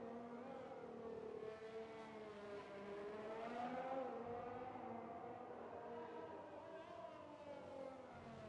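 A Ferrari race car in F1 2020 passing, a sustained high engine whine with shifting pitch sweeping up and down, loud and continuous.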